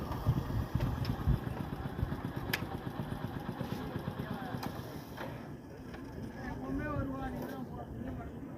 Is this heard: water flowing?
no